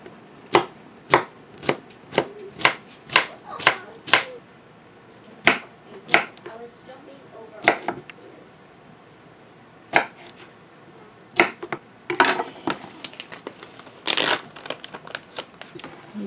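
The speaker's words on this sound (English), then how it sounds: "Just slice it up." Okra sliced with a knife on a cutting board: a close series of crisp, evenly spaced chops, about a dozen sharp strokes, then sparser cuts and rustling, with no talking.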